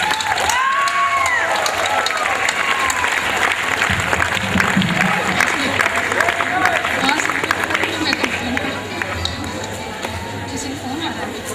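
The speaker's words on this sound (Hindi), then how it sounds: "जो तालियां बजाए सभी कोई" Audience applause at a teachers' event, steady clapping from a crowd filling the room with a few cheers mixed in, people talking over it.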